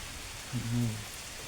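Heavy rain at a rock cave on Mawaragala mountain in Dambana makes a steady, broad hiss throughout, with a short voice-like hum rising briefly in the middle.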